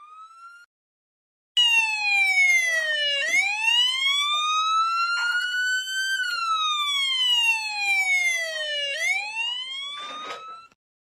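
A police siren played on a mobile phone wails loudly and on its own, its pitch sweeping slowly up and down in long cycles before cutting off.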